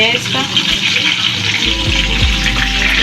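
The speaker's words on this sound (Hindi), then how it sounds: "कबाबें हमारी देखो फ्राई हो रही हैं" Beef kebabs for karahi kabab fry in a pan with a steady, close hissing sizzle, while a person talks over it.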